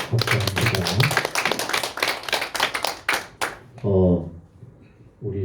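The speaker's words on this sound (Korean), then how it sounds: "우리 다시 한번 박수합니다." A church congregation claps in a brisk, dense round of hand claps after a cello solo during a Sunday service, fading out after about three seconds before a voice speaks briefly.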